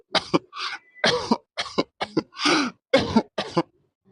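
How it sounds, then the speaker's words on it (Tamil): A person coughing on request, a run of about eight short, harsh coughs in quick succession, close and loud, with brief pauses between them and no talk. "ஒரே ஒரு வாட்டி ஒரு 2-3 இருமல் மட்டும் இருமுங்க."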